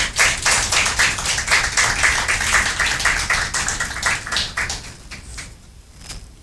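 A church congregation claps together in a fairly quick, rhythmic beat, the sharp claps loud and close at first, then loosening and fading out near the end.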